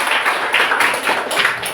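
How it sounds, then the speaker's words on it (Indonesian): Classroom applause bursts out from a group of students, a brief, close run of rapid overlapping claps. "Tepuk tangan untuk"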